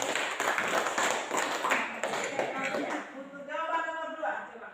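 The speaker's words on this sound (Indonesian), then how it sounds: "Tepuk tangan dulu untuk" A classroom claps together in a brisk, scattered burst of applause that fades after a few seconds, with a voice speaking over the tail end.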